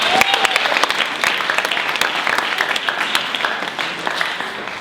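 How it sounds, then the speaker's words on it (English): Warm, steady applause from a theatre audience at a comedy sketch show, dense and continuous at moderate loudness with no talk over it. "after a warm round of applause"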